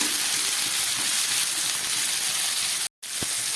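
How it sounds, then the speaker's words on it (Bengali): Vegetables with yardlong beans frying in a pan, a steady bright sizzle that holds evenly, briefly cut off near the end before resuming with a small clink. "সবজিগুলোকে একটু ভেজে নিচ্ছি।"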